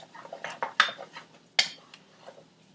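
Garlic choux pastry dough is stirred in a pan, the spoon knocking and scraping against the sides in a quick run of sharp clanks with brief pauses between.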